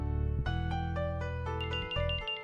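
A telephone rings indoors with a steady electronic ringtone melody of repeated tones, loud and alone without any talking.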